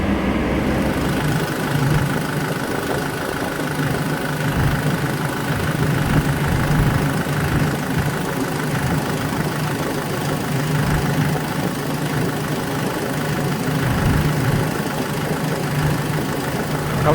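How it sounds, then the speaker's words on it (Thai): A car engine held at about 2000 rpm during radiator coolant servicing runs with a steady, loud mid-low hum and slight knocking texture, continuous and close with no talk. "ตอนนี้ผมจะเล่นเครื่องที่2พันรอบนะครับ"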